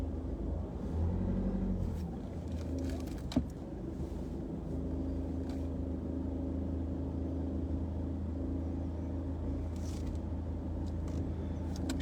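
A car driving on the road toward Telford, heard from inside as a steady low engine rumble and road noise that stays constant throughout, with a faint click partway through and no talking.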